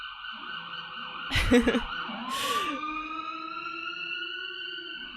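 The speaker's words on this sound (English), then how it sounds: "There's a lot of sirens near me." Sirens wailing outside near a hospital, steady and moderately loud, with a couple of brief bursts of nearby noise early on.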